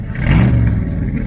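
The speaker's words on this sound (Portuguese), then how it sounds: "Admirando o carrão e o ronco do motor." A hot rod car engine revs in a short, loud burst, a rough mid-range roar that swells and holds for about a second.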